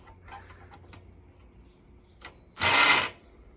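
A power drill drives a screw into a wooden planter box with one short, loud, whirring burst. Before it come scattered faint ticks and clicks of handling, and no one speaks.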